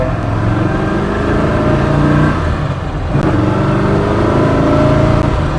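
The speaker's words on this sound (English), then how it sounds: "Let's hear what that solid lifter sound like." A classic early C3 Corvette with a big-block 454 LS6 V8 and solid lifters runs loud and close, a steady throaty rumble with slight rises in revs throughout, no voices.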